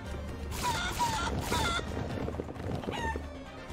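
Chicken clucking from the side-scrolling action game Guacamelee 2, a few short squawky calls rising over busy game music and effects, moderately loud with no talk in between.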